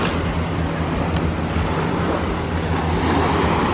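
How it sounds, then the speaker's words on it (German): Sea waves wash steadily onto the beach at Ao Tonsai on Koh Phi Phi, Thailand, with a continuous loud roar of surf and wind buffeting the microphone and no talk. "Und da ist das Meer."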